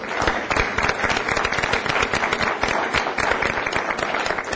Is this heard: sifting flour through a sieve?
no